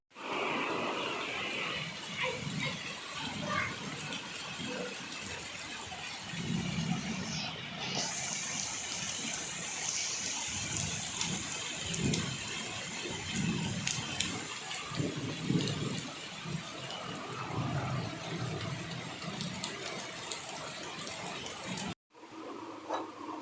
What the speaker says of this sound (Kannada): ಮಳೆ ಕೂಡ ಬತ್ತಿತ್ತೆ